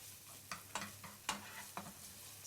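Garlic, mushrooms and bacon fry quietly in a pan, a faint steady sizzle broken by several soft scraping stirs in an uneven rhythm.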